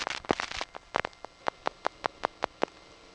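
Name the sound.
revertive pulsing in panel telephone office trunk selection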